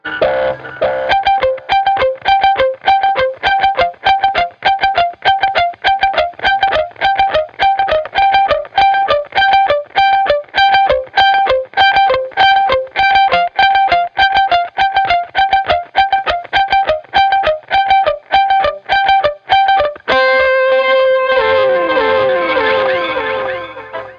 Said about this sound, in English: to get that sound I am just using the blues driver and the delay